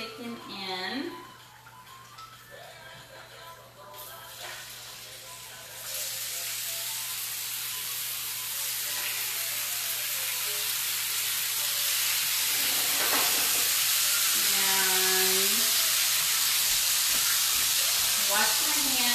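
Bacon strips sizzle in a frying pan, a soft hiss that jumps up sharply once the last pieces go in and then holds as a loud, steady crackle, with a voice speaking briefly over it.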